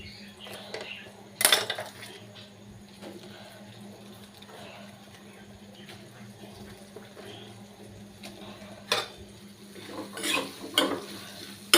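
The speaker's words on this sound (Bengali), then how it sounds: "পেঁয়াজ দিয়ে নাড়ি চাড়িয়ে নেব।" Onions are stirred in a pan while making paneer chilli, with quiet background sizzling broken by a few sharp scrapes and clinks of a spoon against the pan.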